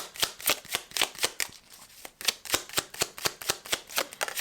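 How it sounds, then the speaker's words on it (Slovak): Small angel oracle cards are shuffled by hand in quick rhythmic bursts of crisp riffling clicks, close and clear, with a brief pause midway before the rapid flicking resumes. "Dúfam, že mi nejaké karty vypadnú, ešte by som takto zamiešala."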